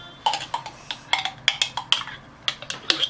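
Olivier salad with peas and mayonnaise being stirred in a bowl, a spoon tapping and scraping against the bowl in a quick irregular series of light clinks, close and fairly clear with no talking.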